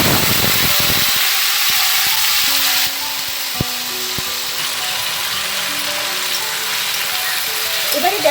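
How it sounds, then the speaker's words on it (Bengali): Jujubes are tipped into a sizzling mustard oil tempering in a pan for a chutney, giving a loud, steady crackling hiss that drops slightly in pitch as they go in, with a few metallic scrapes from stirring. "দেখো এবার ভাজা ভাজা হয়ে গেছে, আমি এবার কুলটার মধ্যে দিয়ে দেবো।"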